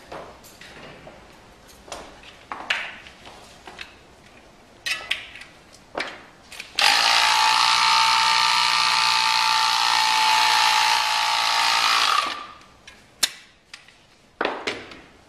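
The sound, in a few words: Craftsman pump inflating a tubular bicycle tire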